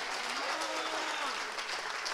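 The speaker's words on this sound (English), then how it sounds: "Come on and clap." Church congregation clapping during a sermon, a continuous wash of hand claps heard somewhat distant and moderately quiet, with a preacher's voice rising over it.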